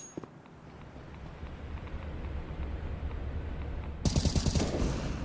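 AK rifle fire in a Counter-Strike match: low in-game ambience and faint steps give way to a sudden close burst of rapid automatic shots near the end.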